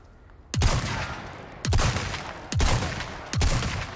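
Gunfire in the video game Resident Evil 4: four loud, evenly spaced shots, each a sharp crack followed by a booming echoing tail, with no speech.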